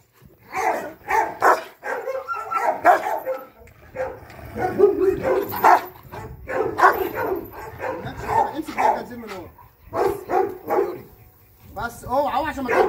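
A dog barks repeatedly in a series of close, loud barks with some yips and whimpers, while people talk over and between the barking throughout.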